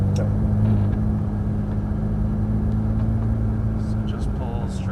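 Ferrari F430 engine rumbling steadily at close range as the car drives slowly and turns, a continuous low drone under intermittent talk from people inside.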